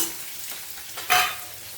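Onions frying gently in a pan with curry leaves for masala dosa, a soft steady sizzle with a brief louder hiss of stirring near the end, heard close up without talk.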